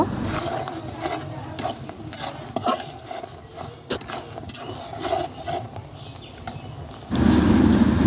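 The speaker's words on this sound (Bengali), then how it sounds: "রসুন কুচিটাও আমি অ্যাড করব, এতে করে ফ্লেভারটা অনেক ভালো আসে। এরপরে দিয়ে দিচ্ছি আদা কুচি। এখন এগুলোকে আমি ভাজা ভাজা করে নেব।" Chopped garlic and ginger fry in a pan for a Bangladeshi beef kala bhuna, a steady close sizzle broken by spoon scrapes and stirring clatter, swelling to a louder, fuller hiss near the end.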